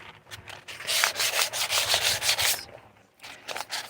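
A dried gourd being sanded by hand for a maraca, the rough strokes rasping close and rhythmic, about a dozen quick passes before a brief pause and then more scraping.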